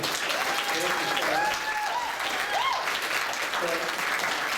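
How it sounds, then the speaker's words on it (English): Steady audience applause fills the room at a panel event, clapping warmly and continuously for the panelists while a few voices talk over it. "I want to thank all of our panelists. Give them a round of applause, everybody."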